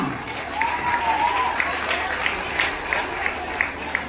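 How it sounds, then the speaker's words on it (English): An audience claps at a church Vacation Bible School closing ceremony honouring teachers, with scattered, moderately loud applause under a speaking voice. "Let the claps be continued."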